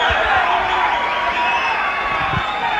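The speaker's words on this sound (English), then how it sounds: "the crowd is not happy about it" Boxing arena crowd reacting unhappily while a fighter takes a knockdown count, a loud, dense roar of shouting and jeering voices sustained throughout with no single speaker standing out.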